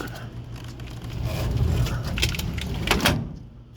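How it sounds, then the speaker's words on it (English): Motorhome storage compartment doors are pushed shut with soft scraping and a couple of muffled thumps and latch clicks near the end, close by over a low background rumble. "Push these back closed here."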